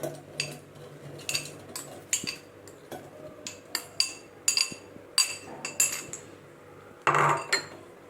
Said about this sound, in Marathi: तर यात हे कलिंगडाचे जे तुकडे आहेत ते टाकून घेऊया